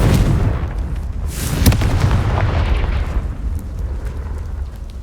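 Confringo fire spell blasts in Hogwarts Legacy, a loud booming explosion with a burst around the middle second, then a rumbling decay that lingers through the rest.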